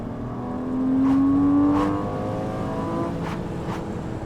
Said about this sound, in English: There's nothing more engaging than shifting it down using that manual stick transmission.